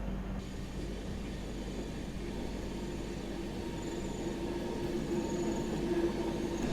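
The Wellington–Vasco da Gama Express approaches along a ghat section of Indian Railways, a steady low rumble of wheels and engine with faint squeals as it draws nearer.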